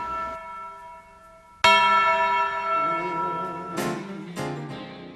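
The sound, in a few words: church bell ringing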